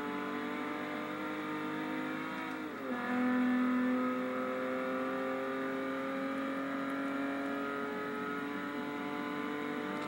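A 1995 Volkswagen Corrado VR6 accelerates hard, its engine drone climbing steadily in pitch, dipping briefly at a gear change, then rising again, heard continuously from inside the car with no talking.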